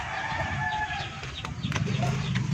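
Duck calls and clucking fill a busy farmyard, with scattered bird cries over a steady low rumble of background noise.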